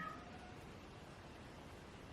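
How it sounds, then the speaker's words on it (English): A cat meows indoors, a brief faint call at the very start, followed by quiet room tone. "that's a cat, sorry."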